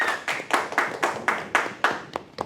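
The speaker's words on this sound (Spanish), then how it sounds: "Un aplauso" Audience welcoming a doctor at a health talk with rhythmic clapping, about nine evenly spaced sharp claps, fairly close and alone.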